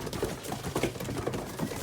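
Pigeons cooing close by, several soft, low, throaty coos repeating in quick succession.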